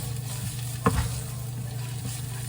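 Garlic fries in a pan with a steady, loud sizzle. One clear stirring scrape cuts through the sizzle near the start, and a fainter one follows later.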